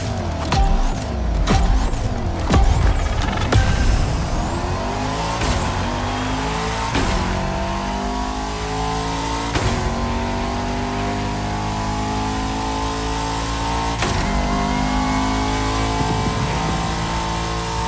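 Bugatti Veyron Barchetta hypercar in the racing game The Crew Motorfest, a loud engine revving hard with several rising gear-change sweeps and brief tire squeals, continuous and close with no talk.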